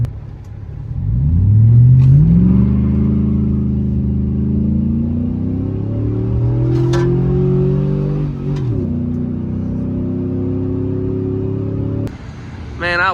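A modified AWD crew cab truck engine revs hard on a single test hit, a loud rising roar that climbs and holds, drops off, then surges again briefly before cutting, up close and alone.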